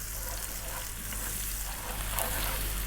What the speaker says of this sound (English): We're going to start by dropping in a cup of finely chopped onions.